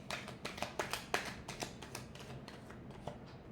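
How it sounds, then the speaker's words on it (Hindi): Tarot cards being shuffled by hand, a quick series of crisp riffling flutters and soft slaps, close and fairly quiet. "Last shuffle."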